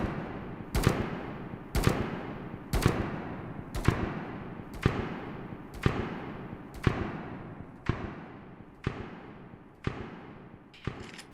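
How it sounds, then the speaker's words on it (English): Repeated gunshots in the Road to Vostok video game, fired at great distance, about ten evenly spaced reports, each a sharp crack followed by a long rolling echo that decays slowly into open ambience. "listen to how far out gun sounds travel here, and the sound of the gun decay"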